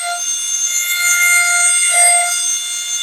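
A pneumatic air lapper reciprocating at 35,000 strokes per minute on carbide produces a loud, steady high-pitched whine with sharp tonal lines and a slight waver partway through.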